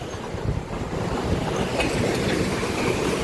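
Water rushing beneath a broken bridge at Nandikadal lagoon in Mullivaikkal, Sri Lanka, a steady loud roar mixed with wind noise buffeting the microphone throughout.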